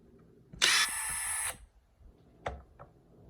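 DeWalt 840 impact driver triggered once: a brief, bright whirring burst of about a second, fairly close, followed by a couple of faint handling clicks in a quiet room.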